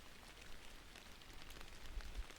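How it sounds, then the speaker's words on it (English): Light rain falls in a soft, steady patter, with quiet scattered drops over a low rumble in the background and no voices. "We can watch the raindrops fall and touch the ground."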